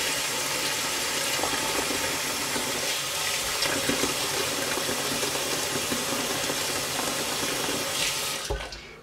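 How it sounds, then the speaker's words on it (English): Tap water runs steadily into a kitchen sink, filling it for hand-washing knitted wool photo props; a continuous, close splashing rush with no voices, cut off abruptly near the end. "you want to fill up your sink before you actually put your props into the water"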